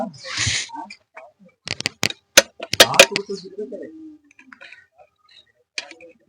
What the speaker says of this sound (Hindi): इसको भी टाइट कर लेते हैं